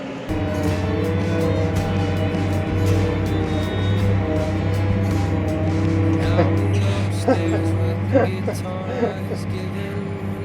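John Deere tractor pulling a silage trailer and struggling up a hill, a strained, steady low engine drone running throughout with some rattling near the end, while a voice talks over it.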